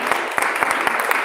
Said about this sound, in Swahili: Situwapigie makofi mazuri jamani.